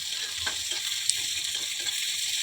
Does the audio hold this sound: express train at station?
no